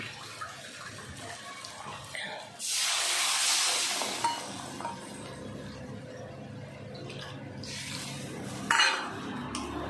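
Water poured into fried spice paste in a hot cooking pan for a fish curry bursts into a loud hissing sizzle for over a second, then settles into a quieter simmer among scattered utensil clinks.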